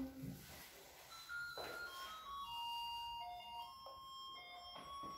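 Doorbell of a home ringing with repeated electronic chime tones, somewhat faint and in a room, sounding several times in a row.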